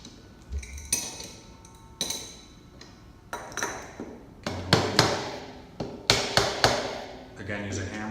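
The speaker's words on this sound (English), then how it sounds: "use a hammer to bang out the slag" A hammer bangs slag off a double-ball divert valve assembly in a workshop, sharp metallic strikes landing in irregular bursts, some single and some in quick pairs, close and fairly loud.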